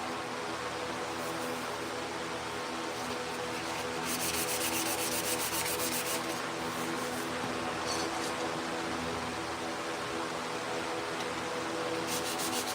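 Steady, close rasping of a sanding block stroked back and forth over the body of a 1968 Chevrolet C10 during bodywork, continuous and fairly quiet with brief brighter, scratchier passages.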